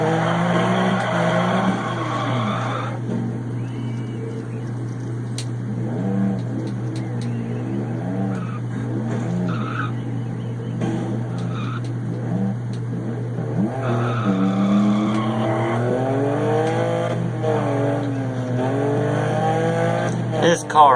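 Rally car on a snowy German stage in the Dirt Rally video game, engine droning and revving through gear changes with rises and dips, while someone talks over it at intervals.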